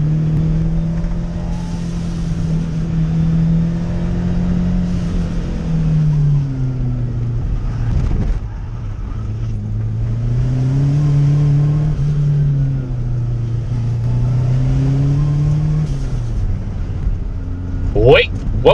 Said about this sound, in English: Perhaps the best use of an SVO is to get it out on a nice twisty country road